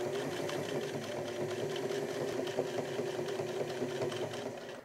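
A sewing machine runs a steady top stitch along a shirt collar, its needle clattering in a fast, even mechanical rhythm with a constant motor hum, close and continuous with no speech.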